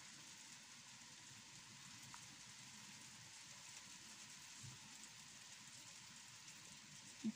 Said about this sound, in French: Il pleut doucement